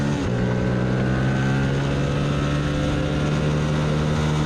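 Race car engine held near redline during an ASRA race at Gingerman: a loud, sustained, steady drone with a constant high pitch, heard close from inside the car with no talking.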